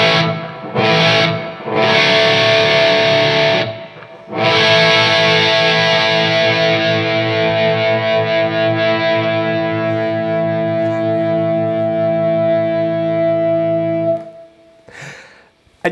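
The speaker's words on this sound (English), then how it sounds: "it activates the preamp in the amplifier and it gives it a front end kick, and it just gives me a little bit more overdrive" Electric guitar runs through an amplifier preamp with a Gain Plus overdrive boost, giving sustained, thick distorted chords. Short choppy strums open the passage, then a long ringing chord fades out near the end.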